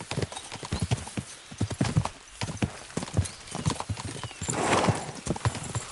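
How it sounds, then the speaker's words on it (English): Horses gallop in the video game Kingdom Come: Deliverance II, with quick, close, rhythmic hoof clip-clops throughout and a whinny near the end. "We should spur the horses on!"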